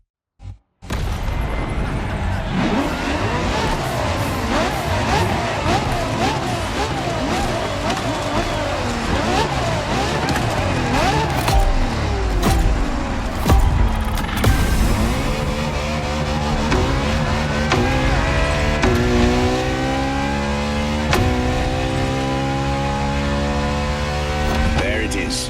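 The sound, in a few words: Ferrari LaFerrari engine in video game The Crew Motorfest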